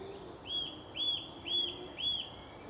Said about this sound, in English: There's a bird up there I don't recognise.